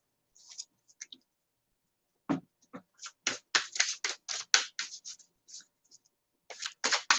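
Oversized zombie-themed tarot cards shuffled by hand, giving bursts of crisp riffling clicks and flutters in uneven clusters with short quiet gaps, close and fairly soft.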